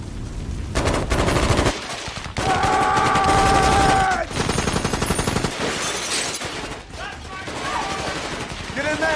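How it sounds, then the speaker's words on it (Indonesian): Rapid bursts of gunfire with loud sustained rattling over a dramatic soundtrack, mixed with shouting and tense music. "disusul dengan serangkaian tembakan yang membuat Chris dan pacarnya seketika panik"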